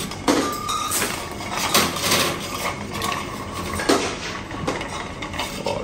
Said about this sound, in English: So a 10-15 seconds stir would be all right, ready for the temperature and dilution of this drink.